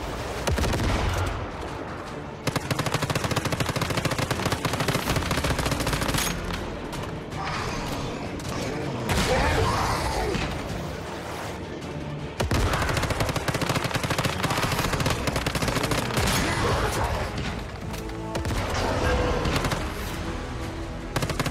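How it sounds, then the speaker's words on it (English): Heavy weapon fire and explosive blasts from a rocket launcher in an open world survival video game, loud and dense, with bursts of gunfire layered throughout and a brief drop near the start. "That's a rocket launcher."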